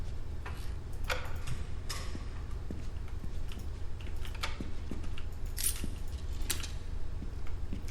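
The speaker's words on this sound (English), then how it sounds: "I feel like my clicking is also probably going to be loud" Clicks from a computer mouse come one at a time in sharp, close, irregular taps during a game, over a low hum with no talking.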